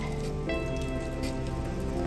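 Steady rain falls on rocks and ground outdoors, a continuous broadband hiss with patter throughout, fairly close and alone, with no talking.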